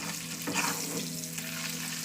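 An egg frying in a pan gives off a close, steady sizzle and crackle, with one brief stirring or scraping sound partway through.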